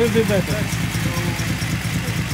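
A 1972 Datsun Cedric engine idles just after starting, a steady low uneven rumble with a slightly rough, lumpy pulse, close and loud, with someone briefly talking over it at the start.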